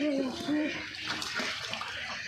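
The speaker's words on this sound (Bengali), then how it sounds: "সকাল সকাল হাঁস বেশ সুন্দরভাবে গোসল করতেছে" Farm ducks bathing in water in the morning make faint, continuous splashing and sloshing, heard at a distance, with a brief voice at the start.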